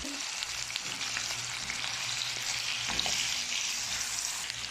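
Chicken pieces frying in a pan with aromatics, a steady broad sizzle with occasional stirring clatter throughout, moderately loud and close, no talking.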